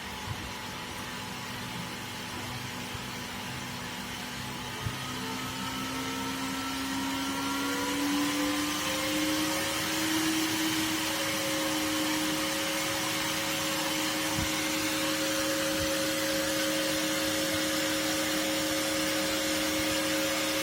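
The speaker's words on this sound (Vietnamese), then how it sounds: "các bạn chú ý nghe tiếng quạt kêu và nhìn ở dòng này" An old switching power supply's cooling fan whirs steadily and loudly, its hum rising in pitch as it speeds up partway through, with constant broadband airflow noise throughout and no talking.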